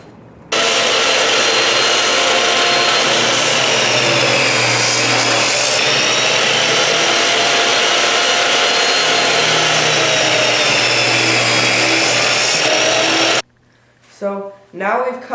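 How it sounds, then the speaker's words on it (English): Maple wood being cut with a miter saw and table saw for a Les Paul guitar build, a loud continuous whining blade grind held steady for over twelve seconds, then cutting off to brief speech. "So now we've cut all our pieces off with the miter saw, and we've run them through on the table saw"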